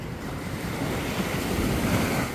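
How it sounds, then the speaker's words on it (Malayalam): Ocean waves at Kovalam beach in Kerala wash in as a broad, steady surf roar with wind noise layered over it. The sound is loud and continuous, and there are no voices. "ഇതിപ്പോൾ നമ്മളുള്ളത് കോവളം ബീച്ചിലാണ്"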